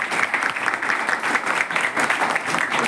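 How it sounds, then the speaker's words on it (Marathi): An audience applauds a respected madam at a school gathering, steady dense clapping that holds at an even, fairly loud level from start to finish. "जरा टाळ्या वाजवा आपल्या मॅडमसाठी."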